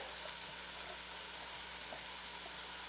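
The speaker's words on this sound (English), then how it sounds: "I hear this sizzling" Soft, steady sizzling of butter in a hot pan, a continuous crackly hiss with small pops, fairly quiet and without talking.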